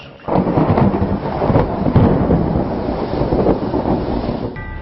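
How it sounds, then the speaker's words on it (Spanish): Deep rolling thunder rumbles through a storm, a loud sustained roar with swelling peaks and a faint hiss of rain and wind beneath, no voices. "Después se oyó como un estruendo de truenos y los cielos se encendieron con los rayos."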